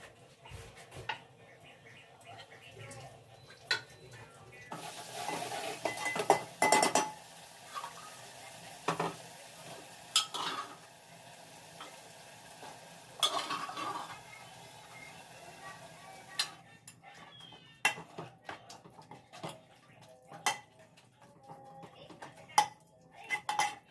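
Dishes, pots and cutlery clatter and clink in a home kitchen as the counter is cleared during rajma cooking, with irregular knocks and scrapes, some louder bursts, and a faint sizzle underneath.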